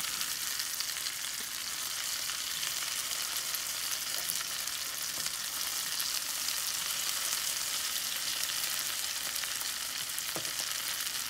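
Low-carb tuna cakes fry in oil in a pan with a steady, bright crackling sizzle and occasional small pops, close up and continuous, with no voices.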